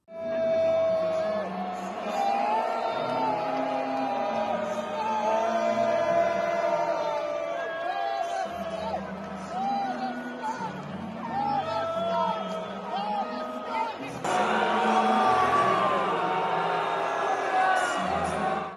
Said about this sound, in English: her vocals at each show were drowned out by constant booing and chanting